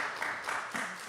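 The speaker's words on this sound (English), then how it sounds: "So please give him a big round of applause." An audience claps for a speaker at a devotional gathering, a short burst of applause in a hall with no talk over it.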